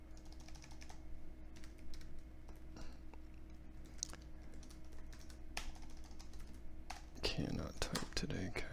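Keys tapped on a computer keyboard during CAD drafting work, soft scattered clicks over a low steady hum, with a brief muffled voice and rustle near the end.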